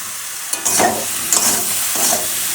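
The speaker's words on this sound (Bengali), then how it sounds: "এবার বেগুন দিয়ে দেবো দিয়ে একসঙ্গে ভালো করে ভেজে নেব" Potatoes, plantain and eggplant fry in a pan, a bright steady sizzle broken by three scraping stirs of the spatula, close and fairly loud, with no talking.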